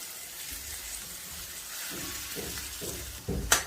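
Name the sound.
dal added to frying chopped tomatoes, sizzling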